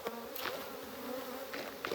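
A dense, steady hum of bees swarms close by during a honey harvest, continuous and fairly faint throughout, with a few brief scuffs and knocks over it and no talk.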